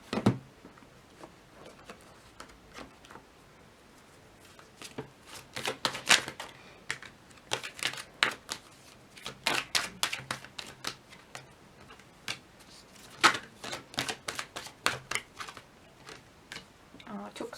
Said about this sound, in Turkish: Şimdi sizin için işaret kartı ve melek kartı çekelim